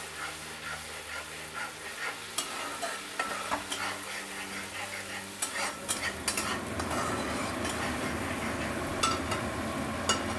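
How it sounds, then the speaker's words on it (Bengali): Onion paste stirred and fried in a pan for egg kali mirch makes a building sizzle, with a spoon scraping and clinking against the metal in quick irregular strokes. No voice is heard. "পেঁয়াজ বাটাটা একটুখানি নেড়ে দেবো।"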